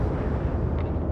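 A ship explodes in the space strategy game Homeworld 3 while playing a Kalan Raiders fleet. The blast is a dense, steady roar of rumbling noise that fills the moment without a break.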